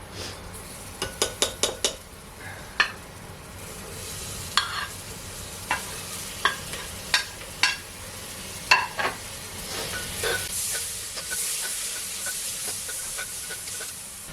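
Tomato masala sizzling in a pan, stirred with a spoon that knocks against the metal in a run of sharp taps and scrapes over a steady frying hiss that swells toward the end.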